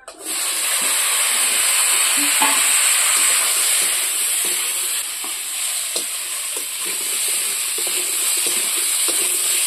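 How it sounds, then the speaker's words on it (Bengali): Bitter gourd frying in a pan, a steady close sizzle with occasional stirring scrapes and no talk. "দেখো উচ্ছে ভাজা হচ্ছে, এখানে উচ্ছে ভাজা হচ্ছে"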